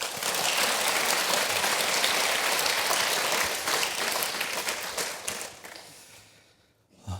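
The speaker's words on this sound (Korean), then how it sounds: "다시 한번 뜨거운 박수 한번 부탁드리겠습니다" A church congregation at a Sunday evening service claps warmly, the dense applause sustained for several seconds before tapering off to near silence at the end.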